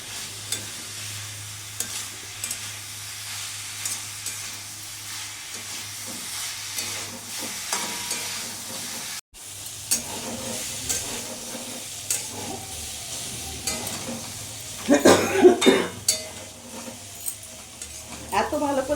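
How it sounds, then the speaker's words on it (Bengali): Potato and cauliflower pieces frying and being stirred in oil and spice paste for a Bengali katla fish curry, a steady soft sizzle with scraping spatula strokes that grow louder and busier toward the end. "আলু ফুলকপি দিয়ে এখন আরও পাঁচ মিনিট আমি করতে থাকবো"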